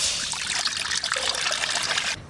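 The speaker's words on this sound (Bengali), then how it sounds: "জল দিয়ে দেবো," Water poured in a steady trickle into a pot for cooking masoor (red lentil) dal, a close, bright splashing stream lasting about two seconds before stopping abruptly.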